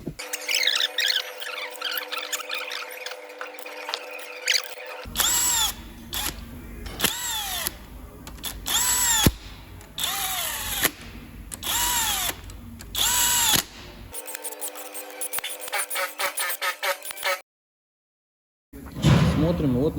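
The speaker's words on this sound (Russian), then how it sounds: "Подготавливаем новые болты, устанавливаем, затягиваем." Power tool driving new bolts home on a MAN TGM truck's D0836 engine during repair, a series of loud, high-pitched whirring bursts with sharp rising squeals, separated by short pauses, close by.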